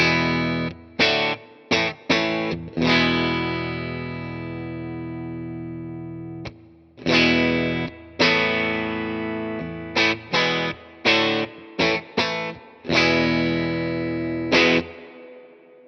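Distorted electric guitar chords through a Tone King Falcon Grande amp played in short repeated bursts, each ringing out with a long reverb tail, ending on a sustained decaying chord.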